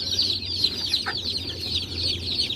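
A large brood of day-old native village chicks, about a hundred, kept under a warming lamp, cheeps in a dense, continuous high-pitched chorus of overlapping peeps at steady volume, with no talking.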